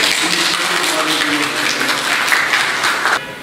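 An audience applauds at a police press event in Darjeeling district, a short burst of dense, steady clapping from many hands that fades out at the end.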